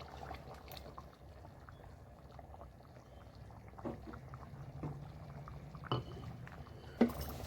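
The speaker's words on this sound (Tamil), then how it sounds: "நல்லா குழம்பு கொதிச்சிருச்சு." Mutton kudal gravy bubbles at a rolling boil in a village-style pot, a low, continuous burbling simmer punctuated by a few sharper pops and clinks.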